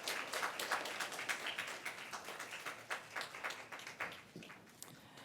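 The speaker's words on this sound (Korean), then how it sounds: "네, 다시 한번 축하의 박수를 부탁드리겠습니다." A Sunday church congregation gives another round of congratulatory clapping for new-family graduates, moderately loud scattered claps that continue throughout and thin out toward the end.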